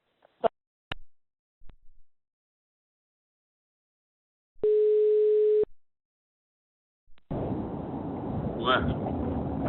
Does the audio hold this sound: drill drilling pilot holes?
no